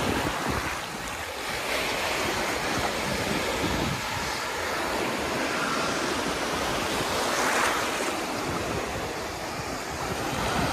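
Ocean surf washes steadily onto Playa San Juan beach in Alicante, Spain, with a continuous roar of breaking waves and some wind, no talking.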